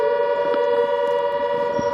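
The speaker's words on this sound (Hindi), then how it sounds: "सायरन की आवाज हम प्रेमदान सुन पा रहे हैं" A civil defense siren wails in a steady, sustained tone over a town street near the Rajasthan border, holding loud and unbroken throughout with faint background noise underneath.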